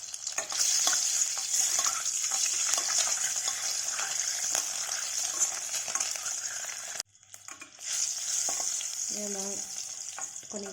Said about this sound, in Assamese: পেলাই কণীকেইটা অকণমান ফ্ৰাই কৰি ল'ম